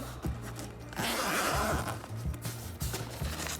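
A pencil case full of colored pencils zipped open in a quick scratchy rasp, with soft handling noises before and after.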